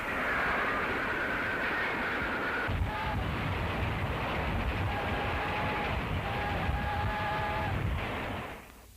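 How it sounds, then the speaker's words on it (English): A passenger train rolls along in a 1930s gangster drama, its steady low rumble and rattling carriage noise continuing without a break, with thin squealing tones drifting above the din. "see that you don't get off that train"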